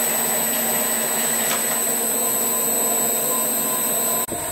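A Rivett 608 metal lathe runs in reverse at a steady speed, giving a continuous close mechanical whine and hum with a brief dip near the end.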